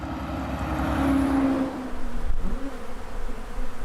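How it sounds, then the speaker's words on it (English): A swarm of millions of bees spilled from hives off an overturned transport truck, buzzing as a dense, continuous drone that holds steady throughout without any voices. "Millions of bees spilled from their hives after the truck they were being transported on took a"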